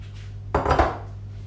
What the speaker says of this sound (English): just using a spoon, bring it together.